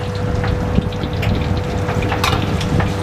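Fu yung hai and capcay being stir-fried at an Indonesian food stall with three stoves going, giving a steady, close, dense sizzle and frying hiss throughout, with no talk.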